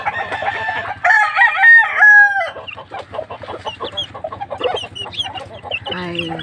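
Hybrid chickens in a coop cluck loudly and close up, with a rooster crowing early on and then a busy run of short clucks and squawks.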